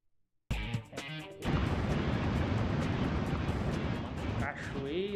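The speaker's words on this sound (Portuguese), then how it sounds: "Cachoeira." Rushing water of a waterfall in a coyote-themed PS1 video game, a steady broadband roar starting after a brief quiet opening with a few game sounds, continuing loud and unbroken with short tonal game effects near the end.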